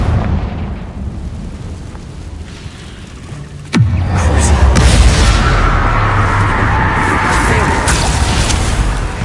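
A Confringo blasting spell bursts in the Hogwarts Legacy video game: one loud, sharp explosion lands partway through, then a long roaring, crackling rumble continues over a dense bed of battle noise and game sound.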